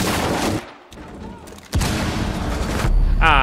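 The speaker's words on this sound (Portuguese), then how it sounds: "Eu nem vi de onde veio esse tiro, mano." Gunfire in the tactical shooter game Rainbow Six Siege, a sharp, loud shot burst inside a castle map building, followed by ongoing noisy game action and rumbling.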